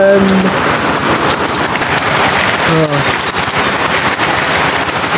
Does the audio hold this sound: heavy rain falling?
yes